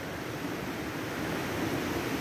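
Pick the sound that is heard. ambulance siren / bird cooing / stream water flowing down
stream water flowing down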